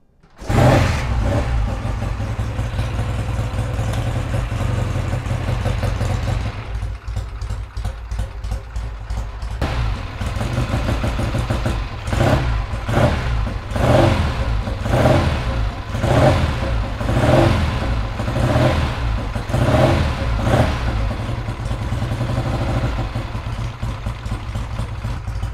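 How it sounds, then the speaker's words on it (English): A Triumph TR6 motorcycle engine runs steadily after an oil change, loud and close, with a constant low idle throb and repeated rhythmic blips of revving throughout. "let's start the bike up"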